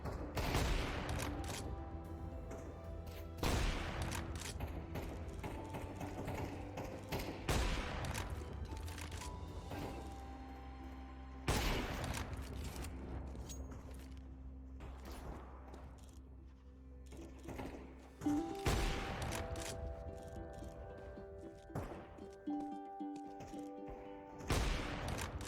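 Video game gunfire comes in repeated bursts of sharp shots over a steady background hum, with brief lulls between volleys.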